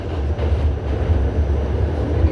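Train rolling along the rails, a steady low rumble with faint rhythmic rattling heard from inside the carriage, continuous and fairly loud.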